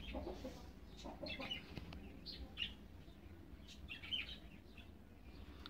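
A hen clucking close by in short soft bursts, with a few sharper higher calls scattered through, over low background noise and no talk.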